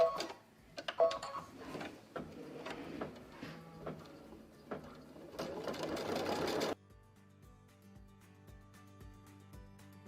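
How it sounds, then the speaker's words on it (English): An embroidery machine stitches background quilting on a quilt block with rapid, even needle ticking and whirring. The sound is fairly close, at a moderate level, with a denser whir partway through and a steady clicking rhythm at the end. "Now we got to go back to the step where it actually does the quilting."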